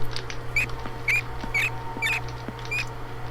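Small, mouse-like squeaks and scratches in a video game, about five of them spaced through the clip, over a low steady hum.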